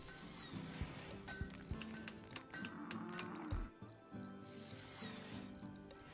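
A cow lows repeatedly while being milked in RimWorld, several deep drawn-out moos spaced across the clip amid soft clanks and farmyard sounds, with no talking.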